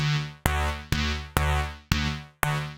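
Reason 8 synth super-saw layer with phaser modulation plays bright sustained buzzy chords in five evenly spaced stabs, each sharply attacked and fading slightly, while the phaser sweeps a shifting swirl through the tone.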